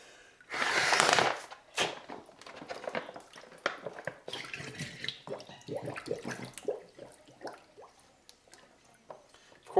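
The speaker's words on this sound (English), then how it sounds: "And we go ahead and fill those with water also." Water running and splashing into plastic filter pouches, with a loud gushing burst at first, then irregular gurgles, drips and crinkly plastic squishes.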